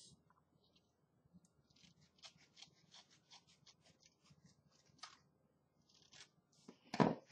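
Scissors snip away a thin sliver of excess paper from the edge of a handmade book, a series of small crisp cuts ending in one louder, sharper snip close by.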